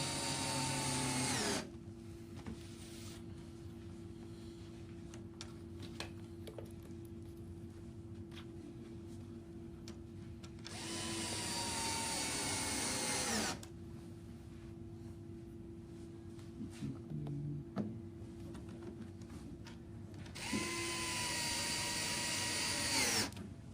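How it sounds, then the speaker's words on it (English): A power drill drives offsets into an aluminum art frame, running in three loud bursts of steady whine separated by quieter pauses with faint handling noises. "you always want to be careful drilling"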